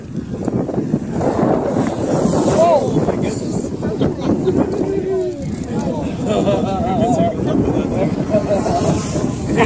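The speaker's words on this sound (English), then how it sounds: "There are my friends coming in the boat." A pontoon boat engine drones steadily across an open lake, with wind buffeting the microphone and faint voices in the distance.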